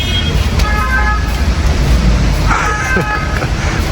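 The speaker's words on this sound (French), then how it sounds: "les voitures elles passent n'importe comment dans tous les sens" Busy, chaotic road traffic roars steadily as cars pass close by, loud and continuous, with brief horn toots rising above the rumble.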